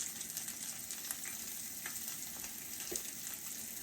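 Flour-coated beef searing in a pan over medium to medium-high heat, a dense, steady sizzle and crackle with a few small pops, close and even throughout, no voices.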